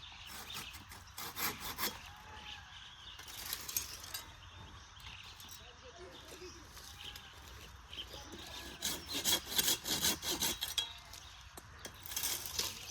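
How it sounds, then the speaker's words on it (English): Hand saw cutting through branches while pruning large native trees near a farm gate, rhythmic rasping strokes in bursts separated by pauses, fairly quiet and close. "Then we took on some aggressive pruning of the large native trees near the gate."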